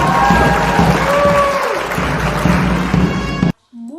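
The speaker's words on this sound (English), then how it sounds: "I think this applause is for some more honors awarded to Caesar" Crowd applause and cheering during a stage performance of Julius Caesar, loud and sustained for several seconds, then cutting off abruptly before a brief voice.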